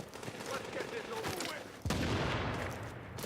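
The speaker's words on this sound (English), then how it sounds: "I'm just gonna get some shots on the guy." Sustained bursts of gunfire in The Division's Global Event, shooting at an enemy: dense, continuous rattling shots that swell louder partway through, with a voice talking under the firing.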